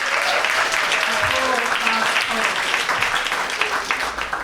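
At a spoken word poetry slam in a library, the audience claps for the poets. The applause is loud and packed throughout, with voices mixed in under it.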